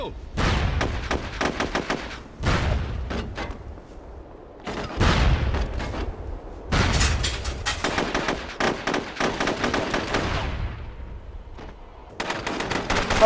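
Rapid automatic gunfire from the online shooter SOCOM 2 rattles in several loud bursts separated by brief pauses, with a few heavier booms mixed in.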